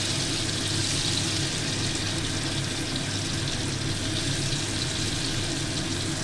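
Crushed ginger, garlic and green chili fry in hot oil, giving a steady, close hiss and sizzle that holds evenly throughout with no talking.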